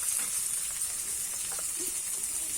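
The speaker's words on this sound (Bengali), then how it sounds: "সব মশলাগুলো আমি ভেজে নেব" Spices frying in oil in a pan for Bengali chicken kosha, a steady, soft sizzle and hiss throughout, close and even, with no voices.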